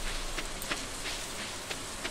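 Warm rain falling in the Stardew Valley video game, a steady even hiss of rainfall with faint scattered drop ticks throughout, heard alone with no voices.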